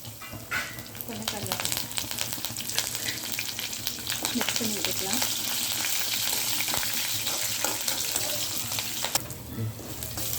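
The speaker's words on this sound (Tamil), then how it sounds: "இப்போ நல்லா வதங்கிருச்சு" Urad dal, garlic and dried red chillies sautéing in a pan for a spinach thokku, a steady close sizzle and crackle of frying with occasional stirring scrapes, no talk over it.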